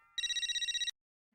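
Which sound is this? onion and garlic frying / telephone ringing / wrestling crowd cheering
telephone ringing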